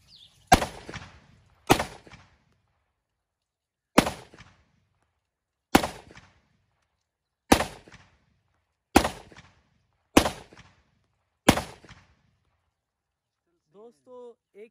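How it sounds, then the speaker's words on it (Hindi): A 30-bore Zastava pistol emptying a full magazine at a cardboard carton outdoors, eight sharp loud shots spaced one to two seconds apart with quiet gaps between them. "एक मैगजीन सक्सेसफुली फायर कर ली है"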